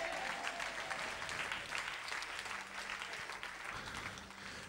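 Steady, sustained applause from a church congregation, continuous clapping that holds at an even level throughout.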